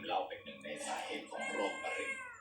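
A cat meows several times in a row, rising and falling cries heard close by with voices murmuring underneath.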